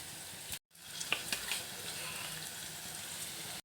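Chicken, washed and coated with turmeric and salt, sizzles steadily in a pan of hot fried ingredients, a close, even crackle with a brief cut near the start.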